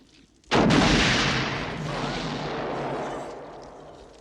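A satchel charge goes off in the 1988 horror film The Blob: one sudden loud boom after a short quiet lead-in, then a long rumbling decay that fades slowly over a few seconds.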